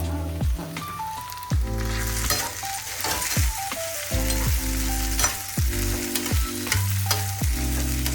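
Grated pumpkin being roasted in a hot pan for sweet pumpkin payasa, sizzling loudly and steadily while repeated scraping stir strokes sound close up, with no talking.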